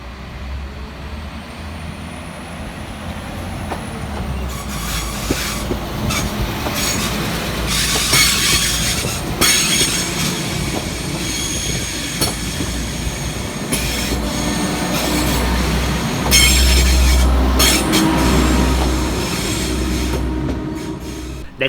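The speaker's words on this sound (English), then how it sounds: "Next train out to depart is 197045 and 197009, departing about 6 minutes late with the 1659 Transport for Wales service from Llandudno through to Manchester Airport" Two coupled Transport for Wales class 197 units pull out of Manchester Piccadilly at rush hour, engines rumbling and wheels squealing and clacking over the rails as the train slowly gathers pace, loud and continuous throughout.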